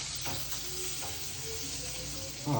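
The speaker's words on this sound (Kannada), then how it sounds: "ಇದಕ್ಕೆ ಕಟ್ ಮಾಡಿರೋ ಮೆಣಸಿನ್ಕಾಯಿ ಹಾಕೊಂತೀನಿ. ಓಕೆ. ಸ್ವಲ್ಪ ಫ್ರೈ ಆಗಲಿ." Chopped green chillies sizzling in hot oil with cumin and mustard seeds, a steady close crackle and hiss running throughout with a slight louder burst at the end.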